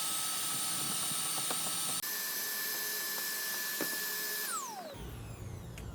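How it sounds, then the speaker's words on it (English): A vacuum cleaner runs continuously while cleaning an outdoor cushion, a steady loud whine with a brief interruption partway through, then the motor winds down and its pitch drops as it shuts off near the end. "we're going to see if we can vacuum this off here."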